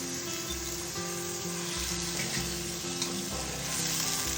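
Onions lightly browned in a pan sizzle and fry steadily with ginger garlic paste, a continuous close hiss with faint stirring and no talk, while cooking a Saudi-style chicken mandi.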